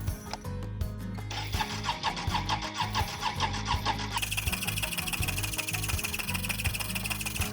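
Can-Am Outlander 650 ATV engine cranking in an attempt to start, a steady mechanical churn with a shift to a harsher, busier rattle partway through, loud and continuous with no talk.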